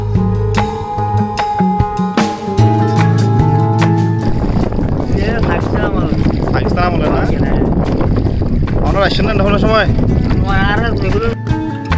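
Boat ride on water near Haldachar, a char by Chittagong, with strong wind buffeting the microphone and water sloshing around the hull, while people talk throughout.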